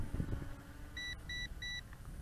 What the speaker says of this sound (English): the beeps will change from triple beeps to a long solid beep